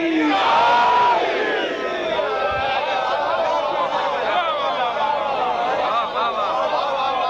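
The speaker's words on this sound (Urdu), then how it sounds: "دونوں ہاتھ بلند کر کے حدیث کسریٰ کے دشمنوں کو جلانے کے لیے نعرے حیدری" A large crowd at a religious gathering celebrating Imam Ali roars a loud, sustained collective slogan chant, voices rising together and holding over several seconds with dense overlapping shouts.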